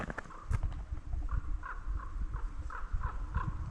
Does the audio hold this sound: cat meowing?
no